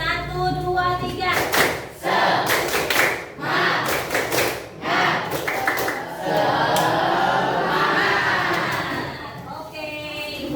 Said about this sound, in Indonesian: ayo sama-sama kita tepuk semangat 3 kali